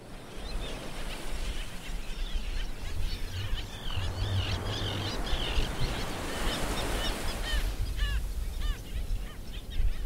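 Gulls calling by the sea, several birds crying and chirping over a continuous rumble of surf or wind, with calls scattered throughout and a cluster of sharper cries near the end.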